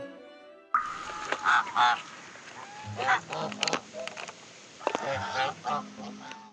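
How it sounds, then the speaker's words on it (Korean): Geese at a university campus pond honk loudly and repeatedly at close range in an irregular, overlapping series of nasal calls, with little else audible around them. "이 거위를 총장님이 처음 기르셨다고 그래요?"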